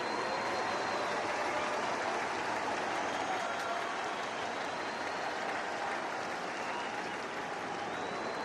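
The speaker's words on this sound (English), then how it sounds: "The crowd again comes alive." A baseball stadium crowd at a Brewers–Cardinals game cheers and applauds during a full-count at-bat, producing a dense, sustained roar of clapping and shouting that stays loud throughout.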